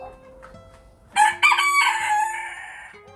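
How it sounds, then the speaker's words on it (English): Chickens kept in a small hotel pen cluck softly, then a rooster crows loudly and close by, with its call stretching out and lingering over the quieter clucking. "So these are the chickens that live in the hotel."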